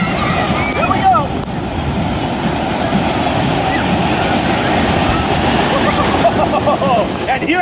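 A big wave-pool surge crashes over a crowd at a Mt. Olympus water park in Wisconsin Dells, a loud continuous roar of churning water with a voice speaking over it.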